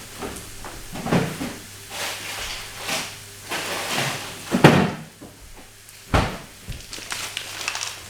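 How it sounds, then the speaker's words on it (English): A freezer door opens in a home kitchen to fetch frozen vegetables, with a few close clunks and thumps of handling, the loudest around the middle and another sharp knock near the end. "I'm just going to grab the veg out of the freezer"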